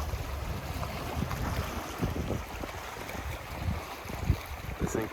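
Wind blows across the shore at Balance Rock in Rennell Sound, Haida Gwaii, a steady rushing buffet with microphone gusts and soft surf underneath, continuous and moderately loud with no voices.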